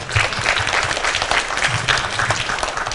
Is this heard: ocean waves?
no